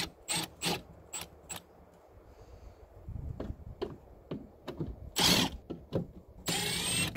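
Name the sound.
ratchet loosening Torx T25 screws on GMC Sierra air box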